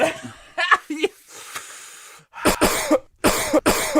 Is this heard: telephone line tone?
no